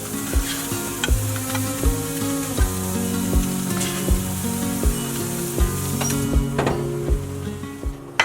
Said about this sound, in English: I'm cooking the chicken outside on the grill so that I don't have to heat up the oven.